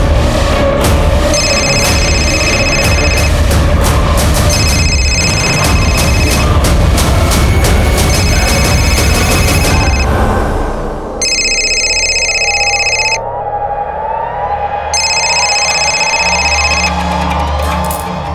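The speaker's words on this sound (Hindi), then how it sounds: "अरे मेरा फोन बज रहा है" A mobile phone rings with repeated bright electronic tone bursts over the noisy din of a Holi celebration crowd. The background then quiets while the ringing continues, loud and close.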